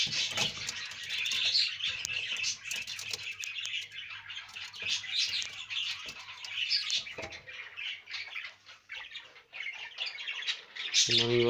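Harsh, repeated bird squawks and chirps fill the clip, close and fairly loud, with scattered calls overlapping and a sharper burst at the end.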